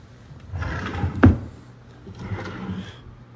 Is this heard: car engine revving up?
no